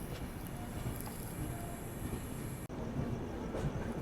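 Dibrugarh Rajdhani Express rolling into Lucknow station toward the platform, a steady low rumble of wheels and carriage noise with a brief drop near the end, no voices.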